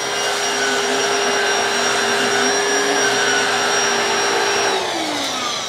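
A Black & Decker PowerSeries 16V cordless vacuum runs steadily on carpet, a loud close whine with a constant hum that drops in pitch near the end as the motor winds down.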